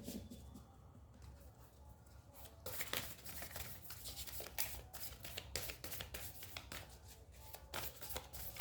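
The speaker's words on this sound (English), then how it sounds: "when I'm shuffling your cards" Oracle cards are shuffled by hand, a faint, continuous riffling and slapping with repeated soft bursts, close but quiet, with no talking.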